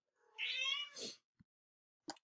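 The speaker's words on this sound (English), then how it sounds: "You hear that's my kitty in the background." A pet cat meows in one long drawn-out call that slides into a second burst, then two brief faint sounds follow, fairly close and quiet in a still room.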